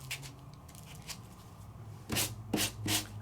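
Sandpaper rubbed over an embossed card with a white back, in soft scratchy strokes that start faint and turn louder and quicker near the end, close by and with no talk.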